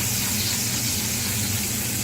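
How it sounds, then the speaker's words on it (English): Flounder fillet sizzling as it fries in a pan, a steady close crackling hiss that holds evenly throughout with no talk over it. "And listen to that sizzle."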